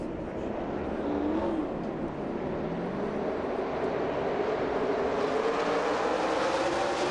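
NASCAR Xfinity Series race cars at Chicagoland accelerating up through the gears on a restart, a rising engine drone that climbs steadily in pitch, heard from a distance as a broad continuous roar.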